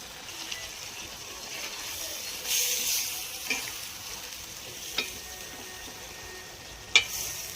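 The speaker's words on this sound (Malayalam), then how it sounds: "ഇതിലോട്ട് നമ്മൾ ചെമ്മീൻ റോസ്റ്റ് ചെയ്തത് ചേർത്ത് കൊടുക്കുന്നുണ്ട്." Roasted prawns are stirred into a pan of frying masala for a Kerala prawn roast, a soft continuous sizzle broken by a few scraping stirs and occasional sharp clicks of the spoon against the pan.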